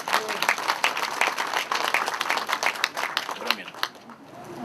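A church congregation at a prayer rally applauding together, dense steady clapping from a large crowd filling the hall, tapering slightly near the end.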